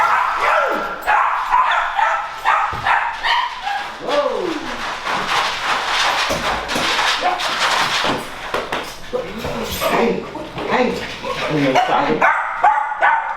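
A dog barks repeatedly in sharp, yapping bursts close by indoors, mixed with a person talking and bird-like chirps.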